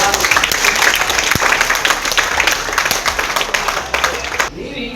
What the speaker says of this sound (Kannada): ನಿಮ್ಗೆ ಈ ಕಾಲೇಜ್ ಪರವಾಗಿ ನಮ್ಮ ಕಡೆಯಿಂದ ಒಂದು ಜೋರಾದ ಚಪ್ಪಾಳೆ.